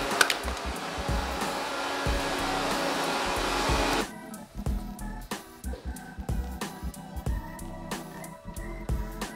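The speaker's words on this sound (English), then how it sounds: "Someone, please, get the hairdryer!" A hair dryer blows loudly during work on a chain reaction machine and then cuts off about four seconds in, leaving intermittent knocks and handling noises.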